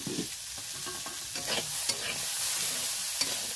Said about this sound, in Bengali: পেঁয়াজগুলোও ভালোভাবে ভাজা হবে, আর ফুলকপিটাও ভালোভাবে ভাজা হবে,